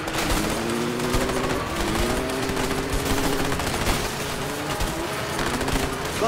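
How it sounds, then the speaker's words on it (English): Sustained automatic fire from a Jeep-mounted machine gun in A Way Out, with dense continuous rattling and layered gunshots during a chase, alongside vehicle engine drone throughout. "They've got a machine gun on the back of that Jeep!"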